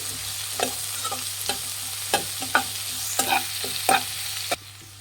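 Green chillies frying in a pan for hotel-style vermicelli upma: steady sizzle with a low hum, broken by several sharp scrapes and knocks of a spoon stirring against the pan.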